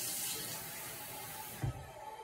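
Water pours steadily into a container in a continuous close rush, ending with a brief low knock near the end.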